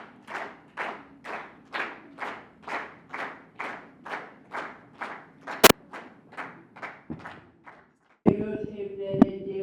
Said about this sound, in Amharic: ዮሴፍ ደረጀን እያጨበጨብን እንጋብዘዋለን። አጨብጭቡ።